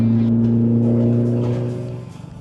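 A 1990 BMW E30 four-door fitted with a Nissan SR20DET blacktop turbo engine, a steady loud engine drone held for about two seconds before it drops away, close up and with no voices.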